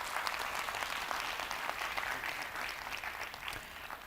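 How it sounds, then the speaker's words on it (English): Applause from a conference audience for panelists leaving the stage after a sustainability session, a steady, dense wash of many hands clapping at moderate distance, sustained evenly throughout with no talk over it. "Please give my panelists a round of applause before they leave the stage"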